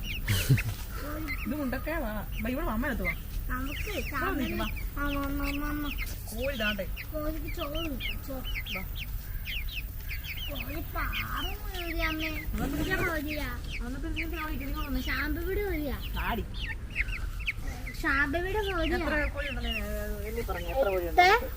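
Chickens clucking and squawking on and off close by, while people talk over them almost throughout.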